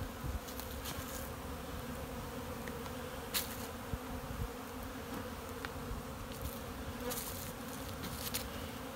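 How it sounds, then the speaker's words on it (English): Dense, steady buzzing of many honeybees flying in and out of a beehive entrance in spring, a continuous close drone with brief louder passes as individual bees fly near. "You see there's hardly any bees going in at the top, but lots going in at the bottom."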